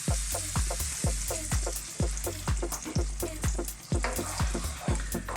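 Pork chops fry in a pan as single cream goes in, giving a loud, busy sizzle with a rapid, regular series of stirring knocks and scrapes close by, and nobody speaks.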